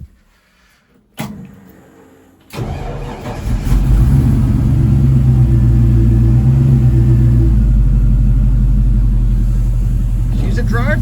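A 1956 car's engine cranks and catches after a couple of tries, then runs on in a loud, steady, rumbling idle close by with a deep low throb; no talk.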